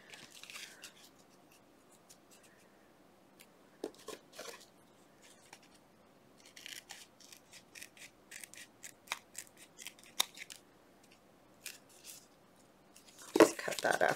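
Scissors snip through paper while making playing card pockets, with irregular short cuts growing busier toward the end and a burst of rustling handling near the close, all close and fairly quiet.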